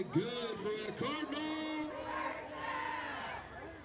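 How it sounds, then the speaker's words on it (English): A home football crowd for the Cardinals roars and shouts in the fourth quarter of a Week 1 game against Hoisington, a steady mass of voices close and full, with individual yells standing out. "This Cardinal crowd still alive."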